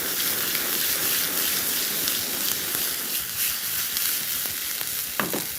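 Chicken breast fries on a high flame with a steady, dense sizzle and crackle that carries close and fairly loud throughout, with a small clatter near the end and no talking.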